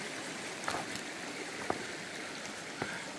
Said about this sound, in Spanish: Estamos en el río de San Germán, el pilón, una charquita buena aquí.